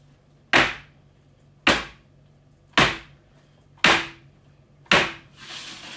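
Five sharp bangs of a tray struck on a hard counter, evenly spaced about a second apart, each loud and short with a quick decay.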